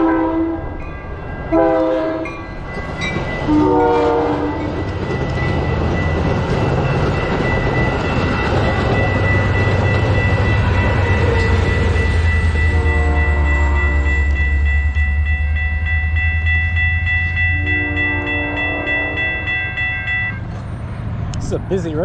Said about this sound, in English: It's like the third train I've heard come through town just while I was cycling through it.